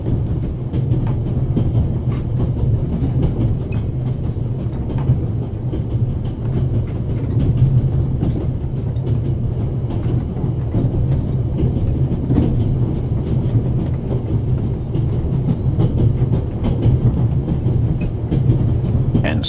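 A moving train inside a video game, a continuous low rumble with faint rhythmic clatter of wheels, steady and enveloping throughout.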